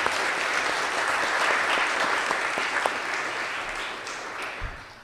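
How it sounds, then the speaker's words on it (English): Round of applause for three bailiffs at a Pinellas County swearing-in ceremony, a steady crowd of clapping hands with a few sharper claps, easing slightly toward the end. "Let's give them a round of applause."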